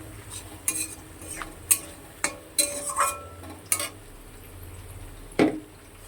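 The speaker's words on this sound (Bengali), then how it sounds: "দেখো এদিকে আমার আলু পেঁয়াজটা খুব ভালো করে ভাজা হয়ে গেছে।" Potatoes and onions fry in a pan for a katla fish curry, with a faint sizzle under a series of sharp spoon scrapes and clinks against the pan at irregular intervals.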